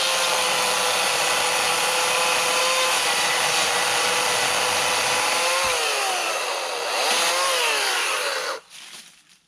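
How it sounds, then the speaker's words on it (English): An Atlas 80V battery chainsaw from Harbor Freight cuts through a good-sized tree limb, a loud, steady high whine close by that dips briefly under load and then winds down sharply at the end. "Pretty much anything that you don't want to use loppers on, this chainsaw is awesome for."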